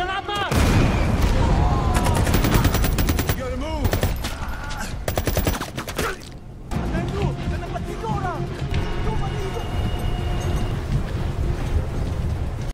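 Covering fire in a military action film about an elite team on a rescue mission: sustained machine-gun bursts and rapid gunshots crackle almost continuously, with a brief lull midway before the loud barrage resumes, and voices mixed in.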